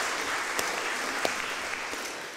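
An audience at a literary reading in a hall applauds, a faint but steady wash of clapping with a few sharper individual claps standing out.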